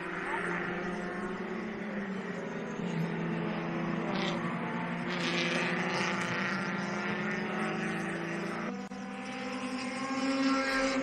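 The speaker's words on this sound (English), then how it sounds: "hits the rev limiter again" Race saloon car engine at full revs during a night race, bouncing off the rev limiter with a steady harmonic drone, then a sharp pitch change near the end as it shifts gear, loud and continuous with no speech.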